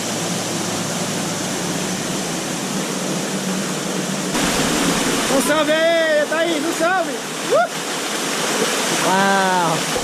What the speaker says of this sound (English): So this waterfall is called Engole, which means swallow.